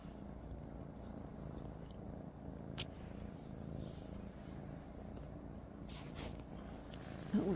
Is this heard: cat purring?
yes